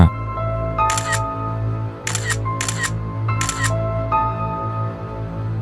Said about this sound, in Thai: ถ่ายรูปข่าวหนังสือพิมพ์และข้อมูลเกี่ยวกับคดีของลำดวนสายเงินเอาไว้ทุกหน้า